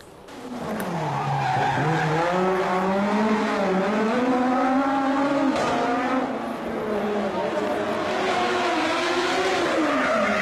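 A three-wheeled racing vehicle slides through a turn, its tires squealing loudly in long, wavering tones over a revving engine for about ten seconds, with faint talk underneath.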